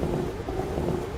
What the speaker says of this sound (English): Yeah, it's definitely wiping the rain.